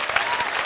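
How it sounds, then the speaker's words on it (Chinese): A live audience at a stand-up comedy show bursts into a brief, dense round of clapping, loud and close, with a faint crowd murmur underneath. "再一次把掌声献给他们。"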